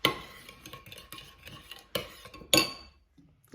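A spoon mixes garlic tomato pizza sauce in a bowl, giving close, scraping stirs and several sharp clinks against the bowl, loudest near the end before it falls quiet.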